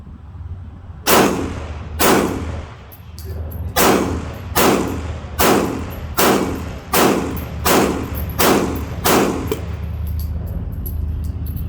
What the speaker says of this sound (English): I'm going to shoot them all, see if there's any difference